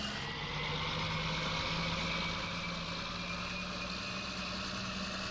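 An old tractor engine idles steadily in the Farming Simulator 19 farming game, a low, even mechanical drone holding constant and fairly quiet throughout with no talk over it.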